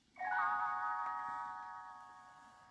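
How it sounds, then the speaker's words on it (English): A bright, ringing chime of small bells, a page-turn signal on a 1970 Disney book-on-record, sounds once and rings out, slowly fading over a couple of seconds, clear and close with no talking. "You will know it is time to turn the page when Tinker Bell rings her little bells like this."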